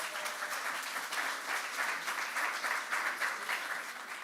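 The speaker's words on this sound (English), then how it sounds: "Give yourselves a round of applause." An audience at a public forum event in Mississippi applauds, a dense steady patter of many hands clapping at moderate distance, filling the whole stretch.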